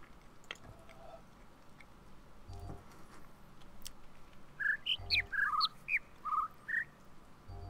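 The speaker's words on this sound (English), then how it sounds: "Stupid birds! I'll kill every single one of you!" Birds chirping in the video game The Witness, starting after a few seconds of quiet ambience with faint clicks, then a cluster of quick bright chirps and whistles from several birds overlapping near the end.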